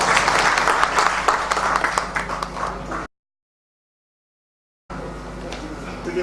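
An audience applauds after a speaker is introduced at a health caravan event, giving brisk, dense clapping that breaks off into a silent gap and then resumes at a similar level.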